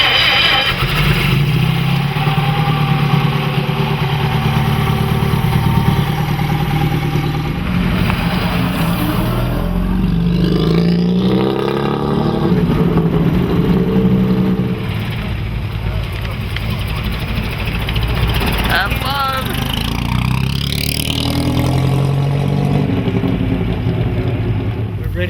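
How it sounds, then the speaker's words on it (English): Vintage Bentley car engines at an outdoor meet in Vermont start up and rev, loud and close with a rough, throbbing rumble that surges and fades, while people talk nearby. "it's fun to hear these cars start up"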